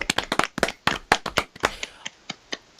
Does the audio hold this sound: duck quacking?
no